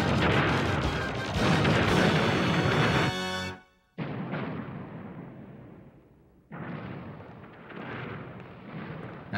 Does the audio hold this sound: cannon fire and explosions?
yes